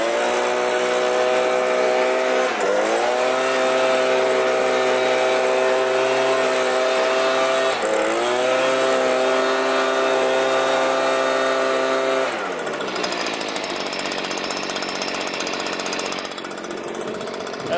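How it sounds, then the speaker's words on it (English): A Stihl SH 86 C-E shredder vac running as a blower gives a loud, steady two-stroke engine whine with a rushing air roar, dipping briefly and then settling again, with no talking. "I'll show you how the blower works."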